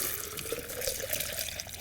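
Liquid iron concentrate pours into a lawn sprayer tank that already holds water, a steady splashing, gurgling stream running continuously and close up, with no voices.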